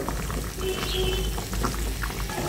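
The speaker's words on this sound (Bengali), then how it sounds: "ঝোলটা ফুটে উঠছে।" Katla fish broth with bhendi (okra) bubbling in a pot, a steady close simmering and gurgling that runs unbroken throughout, with no voices.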